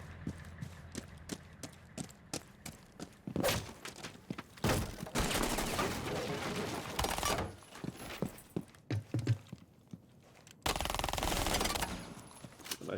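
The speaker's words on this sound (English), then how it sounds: "I'm shooting my gun, no control again, and then me controlling it." Gunfire in a first-person shooter video game fired through an ACOG scope, rapid automatic bursts that repeat in loud sustained volleys broken by brief pauses, close and dominant, with no speech.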